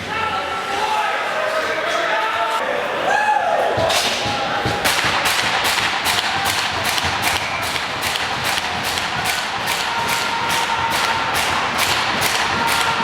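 A hockey stick banging repeatedly on the boards or ice during a U18 ice hockey game at an arena, sharp regular knocks about twice a second filling most of the stretch, loud and near, with crowd noise and commentary underneath.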